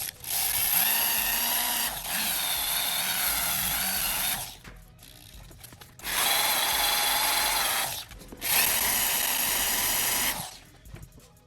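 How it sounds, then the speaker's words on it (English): A power tool with a nylon wheel whirs in three long bursts with pauses between, a high grinding buzz as the spinning wheel scrubs a metal Mustang cylinder head up close. "I'm just going to use a nylon wheel and clean this up."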